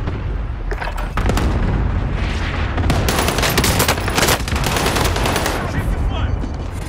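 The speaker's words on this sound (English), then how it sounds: "אני יורה עליו את כל היריות שלי" Gunfire in a shooter video game, heavy bursts of rapid shots and booms packed densely across the stretch, loud and close, with a voice talking over part of it.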